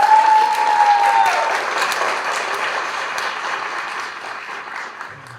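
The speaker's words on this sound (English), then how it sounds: "Can we get a clap for that or something?" An audience at a student talk show claps in a dense burst that starts loud and gradually fades, with a brief tone at the start.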